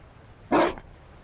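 A single short dog bark in the video game Dragon Age: Inquisition, close and clear against a quiet background.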